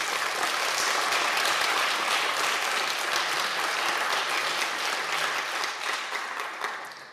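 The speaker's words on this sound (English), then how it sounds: "Let's give them an applause for being awesome." A conference audience at a Nextcloud keynote applauds, a dense, sustained clapping from a large crowd that holds steady for several seconds and then begins to thin and fade toward the end.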